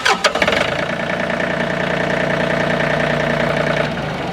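A John Deere 3025E compact tractor's diesel engine cranks briefly, catches and settles into a steady, loud idle close by.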